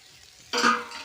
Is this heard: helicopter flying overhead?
no